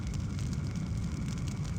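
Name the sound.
fire burning in a video game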